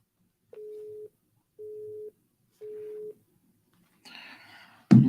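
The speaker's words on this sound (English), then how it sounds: "it says busy number on my cell phone as well" A cell phone's busy signal gives three steady, evenly spaced beeps, fairly quiet, followed by a short burst of rustling noise and a sharp handling thump at the end.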